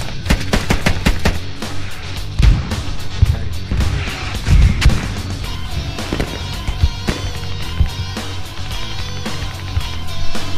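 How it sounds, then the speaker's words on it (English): An APC in the Squad game firing burst rounds: rapid sharp gunshots in clustered bursts with heavier booms mixed in, loud and close, continuing throughout amid battlefield noise. "we got APC throwing burst rounds in here from our north side"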